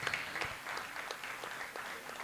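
Sustained audience applause at a school annual function, a steady wash of many hands clapping at moderate volume with a few louder claps near the start, filling the whole stretch.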